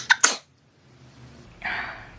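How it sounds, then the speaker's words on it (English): A single person sneezes sharply, two quick bursts close to the mic, followed by a pause and a soft breathy exhale. "I have to sneeze."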